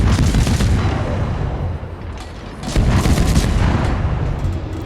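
Rapid naval gunfire from the destroyer USS Kidd in World of Warships, a loud, dense roar of overlapping booms that dips briefly midway and then surges back with fresh volleys.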